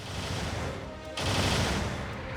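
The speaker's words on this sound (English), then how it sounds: "Moving on here to the machine gun." Machine gun bursts in the mecha video game Gundam Battle Operation 2, with rapid continuous gunfire in two dense stretches broken by a brief gap, loud and close.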